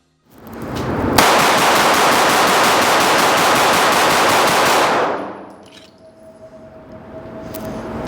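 A custom handgun fires a full magazine in one fast, continuous string of shots that lasts about four seconds, loud and close. The burst stops abruptly and leaves a ringing quiet behind it.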